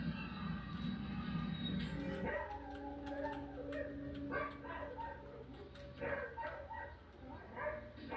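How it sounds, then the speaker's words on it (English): A dog barking and whimpering indoors: scattered short yips and whines, fairly faint, over a steady low background hum with what sounds like a voice in the mix. "Dog is barking and whimpering."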